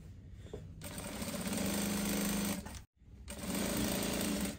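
A sewing machine stitches the center front seam of a cowl bubu garment in two close, steady runs of rapid mechanical whirring, separated by a brief pause, loud and without talk.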